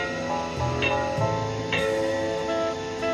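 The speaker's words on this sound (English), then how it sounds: "Or you may hear 3 gongs like this." Three metallic gong strikes as a fallout warning signal, evenly spaced about half a second apart, each ringing on with shimmering overtones that blend into a sustained hum.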